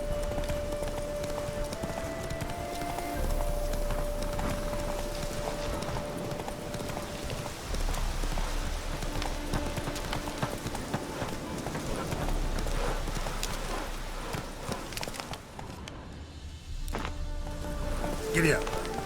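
A horse gallops in The Witcher 3 video game, with steady rhythmic clip-clop hoofbeats running throughout over a dense game backdrop, with brief talk over it.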